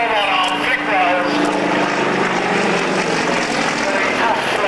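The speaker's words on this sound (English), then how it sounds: "Very tough-looking Russian aerobatic biplanes" Propeller engine of a Russian aerobatic biplane at an air show, a steady loud drone with shifting pitch as it performs, heard under continuous commentary.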